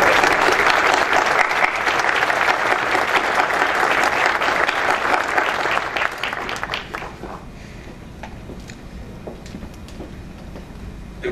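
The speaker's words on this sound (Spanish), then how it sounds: "merece un aplauso muy fuerte" An audience claps loudly at an environmental cooperation award ceremony, the dense applause dropping after about seven seconds to a thinner patter of scattered hand claps that fades toward the end.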